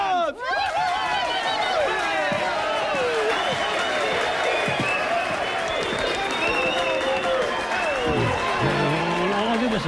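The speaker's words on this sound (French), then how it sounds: "on l'applaudit bien fort" A crowd at a lavish evening party applauds a wealthy guest in a comedy film, with loud sustained clapping and cheering throughout, mixed with excited shouts and voices.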